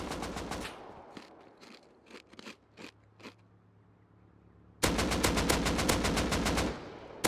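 Automatic gunfire from an enemy player in a Rust PvP fight: a rapid burst, a few scattered single shots, then a long, loud, sustained volley near the end.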